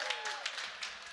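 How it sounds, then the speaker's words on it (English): A packed cafe crowd at a hockey watch party gives a round of applause, a faint, dense patter of clapping mixed with chatter and voices. "A round of, they can't see you all, but a round of applause so they can hear you."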